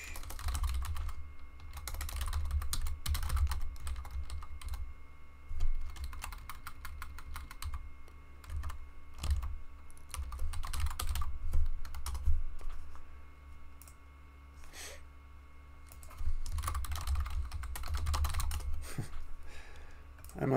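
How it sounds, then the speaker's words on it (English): Rapid, steady typing on a computer keyboard during a live coding stream on image recognition: dense, close clicks and key taps that run for the whole stretch with no talking. "Am I typing too fast"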